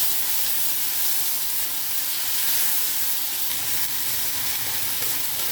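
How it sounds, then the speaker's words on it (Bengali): Ground spice paste sizzles in hot oil left over from frying fish, with panch phoron seeds added first, a loud, steady, close hiss and crackle that holds for several seconds with no talk. "তারপর এখানে আমি বেটে রাখা মশলাটা দিয়ে দেবো।"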